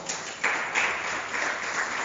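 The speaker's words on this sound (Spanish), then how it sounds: "Denle un aplauso al Señor." Church congregation clapping in praise of the Lord, a sustained crowd applause that swells in a couple of bursts and holds steady, moderately loud and without speech.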